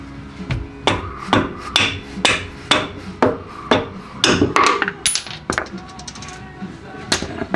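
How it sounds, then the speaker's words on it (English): A hammer strikes a bolt on a C5 Corvette's lower suspension, giving a steady series of about a dozen sharp metallic clanks at close range, roughly one each half second, with a few brief ringing overtones. "get your hammer up in there"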